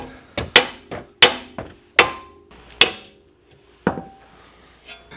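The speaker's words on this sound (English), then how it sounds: "We're going to take our mallet." A mallet knocks on a steering rack part of a 2003–2007 Honda Accord: about ten sharp, ringing metallic blows in an uneven rhythm, loud and close, with short pauses between strikes.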